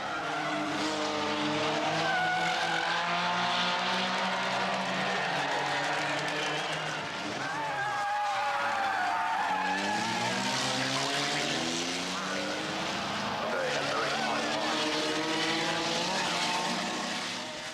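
Race cars roar through S-bends on a circuit, engine notes rising and falling continuously with some tyre squeal, loud and sustained throughout with no talk.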